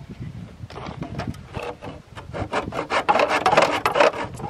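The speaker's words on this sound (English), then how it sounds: "I got a handsaw for cutting wood." Handsaw cutting through wood, a run of rhythmic rasping strokes that start slow and quicken, growing louder and closer toward the end, with no talk over them.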